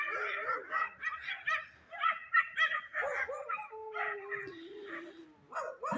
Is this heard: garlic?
no